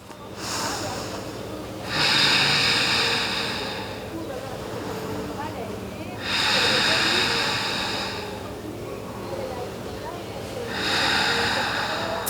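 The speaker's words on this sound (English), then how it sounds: "Hear your breath." Deep ujjayi-style breathing during an advanced outdoor yoga class, three long rhythmic breaths, each a loud rasping inhale-exhale cycle with quieter pauses between, close to the listener, a soft voice faintly underneath.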